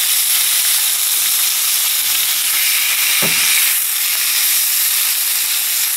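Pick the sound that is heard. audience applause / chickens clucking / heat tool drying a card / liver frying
liver frying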